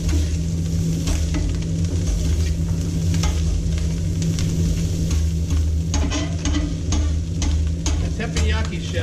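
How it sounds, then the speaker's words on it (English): Garlic fried rice, teppanyaki style, sizzles in butter on a hot surface as it is moved around, a loud continuous fry with steady scraping and tapping of a utensil, close up and without speech. "So we're going to just get the butter on it, move it around, get the rice well coated."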